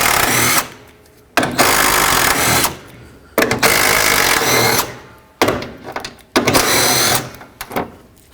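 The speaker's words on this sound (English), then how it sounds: "Then switch to a 10mm and remove these 4 bolts here." Power tool, likely an impact driver or drill, running in four separate bursts with short pauses while removing 10mm bolts from the front bumper of a 2007-2009 Saturn Aura; each burst is loud and close.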